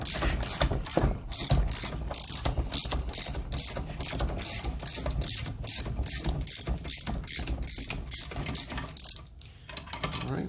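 A ratchet wrench loosens a bolt on a 1969 Mustang fastback spindle, giving a steady run of loud, close metallic clicks in quick regular strokes that continue almost without pause.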